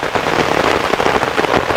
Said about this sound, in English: it's raining so hard, I don't know if you can hear me